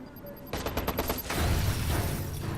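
Bombs and gunfire erupt in the Watch Dogs video game: a rapid burst of sharp shots followed by a heavy, rumbling explosion that swells and lingers, loud and close.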